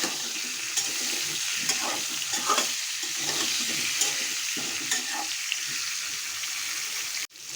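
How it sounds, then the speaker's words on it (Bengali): Sweet pumpkin pieces fry in a pan with a steady, close sizzle broken by scraping stirs and light clinks, ending with a brief abrupt thump, and no voices. "হয়ে গেল আমার মিষ্টি কুমড়া ভাজা"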